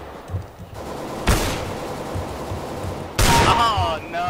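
Gunfire in a multiplayer video game: two loud bursts of rapid shots over a steady background of battle noise, the second burst longer and joined by ringing high tones.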